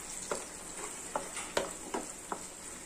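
Egg stirred and fried in a pan for restaurant-style egg fried rice: a soft, steady sizzle with rhythmic scraping strokes of the spatula roughly every half second.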